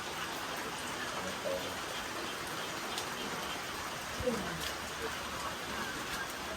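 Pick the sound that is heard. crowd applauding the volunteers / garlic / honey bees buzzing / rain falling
rain falling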